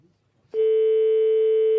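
Telephone line at a bakery, quiet at first, then a loud steady electronic tone starts abruptly and holds unbroken to the end.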